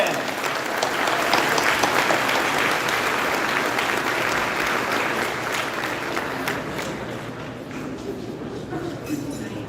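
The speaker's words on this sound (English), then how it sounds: "just clap your hands." Audience at the APACC annual gala clapping their hands together, loud continuous applause for about ten seconds with a faint background voice, gradually easing toward the end.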